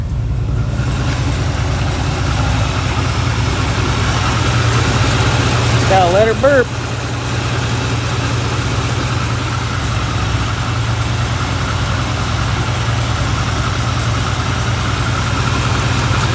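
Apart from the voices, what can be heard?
1975 Chevrolet Corvette engine idling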